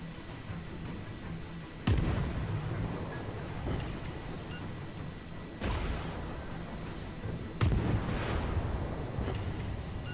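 Heavy naval gunfire in World of Warships, with an enemy Orlan cruiser and the player's ship trading salvos: sharp booming blasts at about two, six and eight seconds, each trailing into a rumbling roll, over a constant low engine and sea drone.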